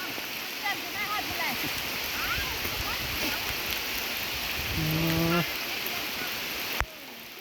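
Steady rain pours down near a stream bridge, a dense hiss like rushing water filling the whole scene, with a brief tonal chirp and a sharp knock near the end.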